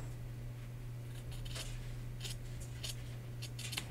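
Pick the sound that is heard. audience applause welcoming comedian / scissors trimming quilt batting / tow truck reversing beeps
scissors trimming quilt batting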